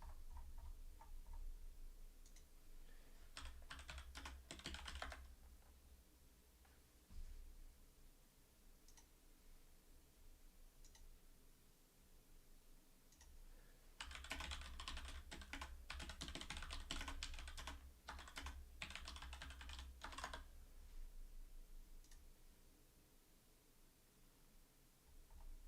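A password typed on a computer keyboard, with quiet scattered keystrokes and two denser bursts of rapid clicking, near and soft over a low steady hum, no talking.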